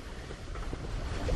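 A sailboat moves through about 10 knots of wind on a calm sea with little swell, giving a steady close wash of wind and water with no voices.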